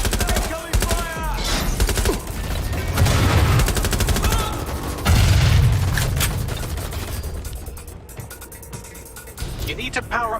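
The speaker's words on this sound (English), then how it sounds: "Incoming fire!" Bursts of heavy gunfire and machine-gun fusillades crackle loudly in Watch Dogs Legion, with booming impacts layered over a dense, chaotic combat din.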